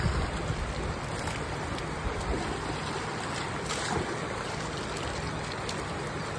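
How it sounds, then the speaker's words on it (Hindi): Fresh mountain waterfall water near a campsite in Rishikesh pours and splashes into a glass, a steady, close rushing wash with no speech. "ताजा ताजा झरने का पानी भरो एकदम।"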